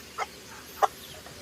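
A native chicken hen with her chicks, giving two short soft clucks about half a second apart against a quiet background.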